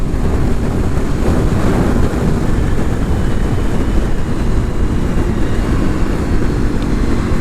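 Strong wind buffets and roars across the microphone in constant low rumbling gusts, loud and unbroken, with nobody speaking.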